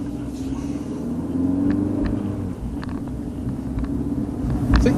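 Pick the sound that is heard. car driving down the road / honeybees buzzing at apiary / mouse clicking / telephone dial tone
car driving down the road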